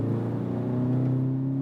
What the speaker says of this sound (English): The sound is nice, really nice, and you wouldn't expect it for a 2-liter turbo engine.